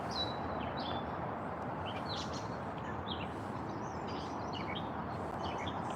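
Scattered bird chirps and short calls ring out over a steady, dense background hiss, several birds calling intermittently with no clear rhythm.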